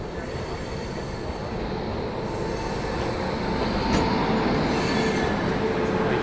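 A passenger train rolls into Jamalpur railway station, a historic locomotive-building station, with a steady loud rumble of wheels on rails, intermittent metallic squeals and faint clatter building slightly toward the end, no voices.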